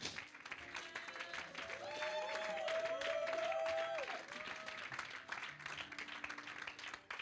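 A church congregation applauds the Lord with sustained clapping and cheering, mixed with voices and a high sung or shouted tone over the crowd.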